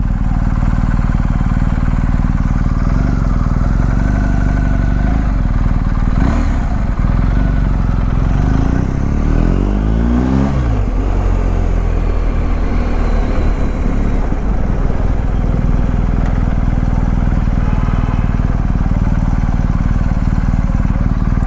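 A 2022 BMW R 1250 GS Rallye motorcycle being ridden, its steady engine drone loud and close throughout, with a brief rise and fall of revs midway as it turns.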